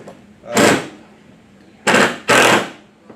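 Three short, loud bursts of a power drill driving a screw, the last two close together, each a brief harsh whirring rattle with quiet pauses between.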